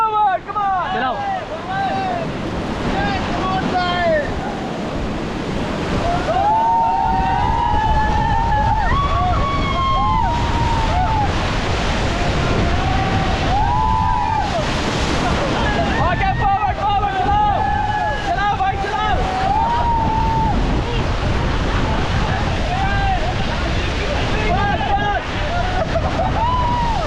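Roaring whitewater of Ganga river rapids during a rafting run in Rishikesh, a loud continuous rush of water and wind buffeting close by, with people shouting and talking over it throughout.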